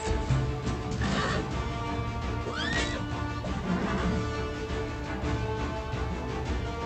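A horse whinnies once during a fantasy battle in Pathfinder: Wrath of the Righteous, a short rising-and-falling cry over a constant bed of game combat noise and ambience.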